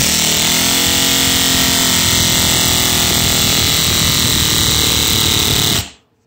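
A Lego pneumatic V8 engine runs on compressed air at about 90 PSI, a loud, dense, buzzing rattle held steady for nearly six seconds before cutting off abruptly into silence.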